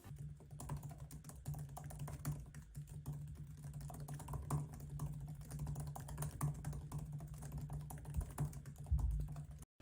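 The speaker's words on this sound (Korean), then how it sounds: "맥북 키보드 소리가 어느 정도인지 궁금하신 분들을 위해 타이핑 소리를 들려드릴게요" Steady, quiet typing on a MacBook laptop keyboard, a continuous flurry of soft, muted key clicks at a brisk pace over a low background hum, with no voices.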